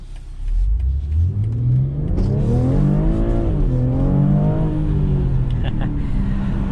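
A 2021 BMW X3 M40 SUV with xDrive all-wheel drive accelerating hard on a test drive, its engine note rising and sweeping up through the gears, loud and close from inside the cabin.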